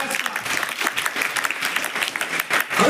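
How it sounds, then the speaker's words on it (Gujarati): Audience applause at a school event held in honour of the teachers, a dense, steady wash of many hands clapping at once for about three seconds, close and fairly loud throughout. "એમના સન્માનમાં એકવાર ખરેખર તાળી પાડી દો"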